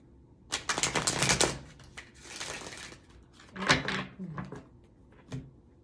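Deck of cards being shuffled by hand, close up: rapid riffling bursts of crisp flicking clatter, one longer run then shorter bursts with pauses between.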